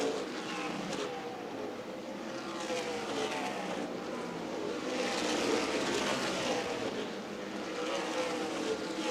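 Stock cars in an ARCA/CRA Super Series race at Winchester Speedway roar past, their engine noise swelling and fading as the pack passes, heard at a distance as continuous roar without talk.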